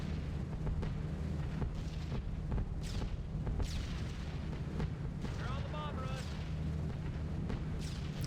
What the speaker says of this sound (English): this flak is getting quite accurate, quite heavy now